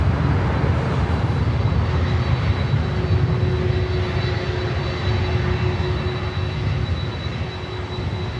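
A Delta 767-400ER airliner takes off from LAX, a loud, steady engine roar that holds strong and fades only slightly over several seconds, with no voices.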